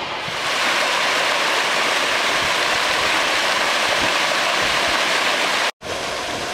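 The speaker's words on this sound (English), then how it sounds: "You can hear the water running and spreading out over the water bank" Water runs out and spreads across a 160-acre water bank facility in Rosamond, a loud, steady rushing wash like a stream that cuts out briefly near the end.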